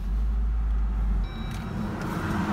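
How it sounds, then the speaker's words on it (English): Jeep JL Wrangler on a test drive after a steering repair, a steady low engine and road rumble heard close up that shifts slightly as it pulls away, with faint thin tones layered on top. "let's pull this thing off, go for a test drive"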